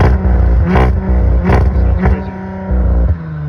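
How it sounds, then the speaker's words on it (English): A 2021 Audi RS5 with its exhaust resonators deleted revs loudly up close in a string of sharp throttle blips, its deep rumbling drone swelling with each one. "Here's the sound of the resonator deletes."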